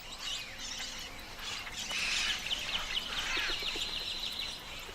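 Mealy amazon parrots by a river give loud harsh squawks and chattering calls, several birds overlapping at moderate distance over a soft background hiss.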